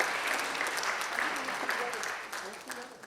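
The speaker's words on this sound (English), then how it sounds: "Let's give them a big round of applause to Frank and Sanjay Rai." A big round of audience applause at the DC South Asian Film Festival, many hands clapping thickly and then slowly thinning, with a voice speaking over it toward the end.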